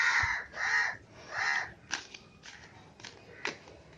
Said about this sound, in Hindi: जैसे ही मैंने रीडिंग स्टार्ट की है, यहाँ पे कौवे आ गए।